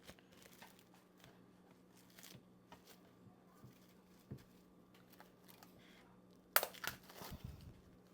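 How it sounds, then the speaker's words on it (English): Saran wrap plastic film is pulled over resting bread dough in a home kitchen. After a quiet stretch of faint handling, a short, sharp crinkle of plastic comes up close, followed by a few soft rustles. "put some of this saran wrap on it"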